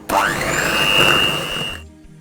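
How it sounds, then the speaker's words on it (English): A kitchen blender mixing coconut loaf batter whirs loudly and steadily for almost two seconds, then cuts off abruptly. "I'm just going to put the blender off"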